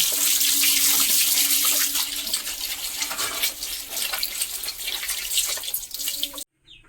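Ripe palm fruits are washed in water, with a strong splashing, running-water rush near and loud for about six seconds before it cuts off abruptly.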